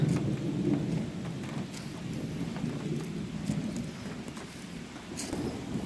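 A nighttime thunderstorm over houses, with steady heavy rain hissing continuously and a low rolling rumble underneath, dense and constant, with occasional sharp drip or splash accents.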